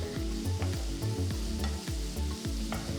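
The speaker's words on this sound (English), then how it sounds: "Now mix well and saute the onions for about 2 to 3 minutes." Chopped onions, garlic and green chillies saute in a pan with a close, steady sizzle, broken by regular scraping knocks of a spoon stirring them several times; no voices.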